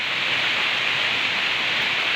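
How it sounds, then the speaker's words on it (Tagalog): Steady rain falls continuously during a three-day spell of rain, a constant broadband hiss with no breaks and no voices. "3 days nang umuulan dito tumitigil pero bumab bumabalik din naman"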